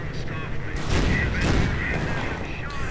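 Gunfire and tank cannon fire from a WWII real-time strategy game, with scattered rifle shots and heavier booms and bursts over a rumbling battle bed, while a commentator talks over the action.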